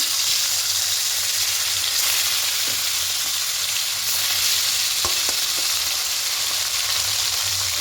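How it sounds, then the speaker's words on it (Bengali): Small fish deep-frying in hot oil, a steady dense sizzle running throughout with occasional sharper pops and crackles near the pan. "বাকি মাছগুলো ঠিক এইভাবে দিয়ে লাল লাল করে ভেজে নেব।"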